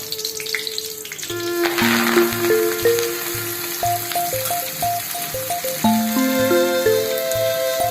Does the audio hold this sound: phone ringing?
no